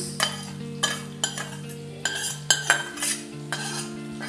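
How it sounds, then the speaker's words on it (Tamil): A spoon stirs and scrapes coconut rice in a metal pan, with repeated clinking strokes in an uneven rhythm over a faint steady hum, close and moderately quiet. "இப்போ இதை நல்லா மிக்ஸ் பண்ணிக்கலாம்."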